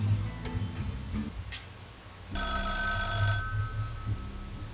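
Telephone in the Rogue State strategy game rings once in a bright, buzzing electronic burst of about a second, set against a low ticking, humming background.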